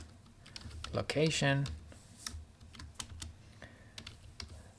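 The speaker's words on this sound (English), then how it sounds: "in my f string, I'm going to write the approximate" Scattered clicks of typing on a computer keyboard, fairly faint and irregular, heard under and after a man's speech.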